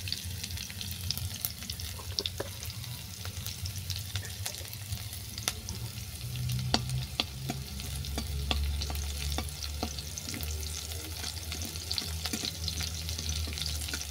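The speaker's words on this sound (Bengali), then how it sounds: "ফোড়ন দিয়ে দিলাম শুকনো লঙ্কা, লঙ্কাটাকে অবশ্যই ফাটিয়ে দেবেন" Dried red chilies and five-spice tempering frying in hot oil for a fish curry with mixed vegetables, giving a steady close crackle and sizzle with scattered sharp pops throughout, no voices.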